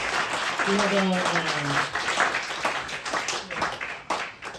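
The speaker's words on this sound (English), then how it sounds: "let's give Ferguson a big round of applause" Audience applause at a science talk on supplements, steady clapping from a small crowd sustained for several seconds, with voices heard faintly over it.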